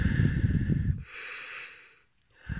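Labored, snorting breaths forced through a blocked nose, a heavy huffing burst followed by a longer strained hiss of air, then a brief pause and another breath starting, close and fairly loud with no talking.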